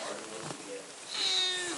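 A cat meows once near the end, a drawn-out high cry over faint room noise, with some quiet shuffling before it.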